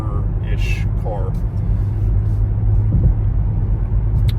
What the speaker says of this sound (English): Doing the speed limit on the highway.